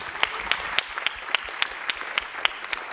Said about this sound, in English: I want a round of applause for everybody,